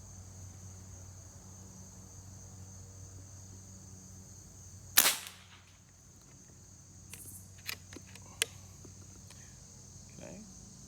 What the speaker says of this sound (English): We're gonna shoot at the center target there and see what's going on.